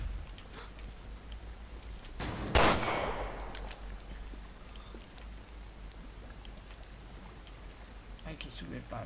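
In the Resident Evil Revelations 2 video game, one sharp, loud gunshot cracks out in a quiet, dark scene, followed about a second later by a smaller report, with faint background noise throughout.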